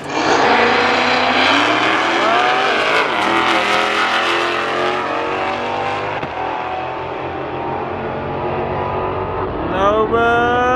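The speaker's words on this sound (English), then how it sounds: "Hellcat Red Eye versus Hellcat Red Eye." Two Dodge Hellcat Redeye cars at a drag race, loud continuous supercharged engine roar with rising revs as they launch and pull down the strip, a second surge of revving near the end.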